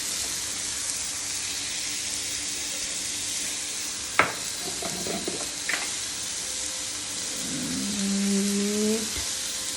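Food roasting with salt in a pan gives a steady bright sizzle throughout, with a couple of sharp clinks from stirring and a faint whistling tone near the end.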